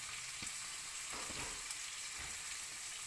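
Greek saganaki cheese cooking in a pan gives a soft, even sizzle, fairly faint, with a few brief knocks and no talking.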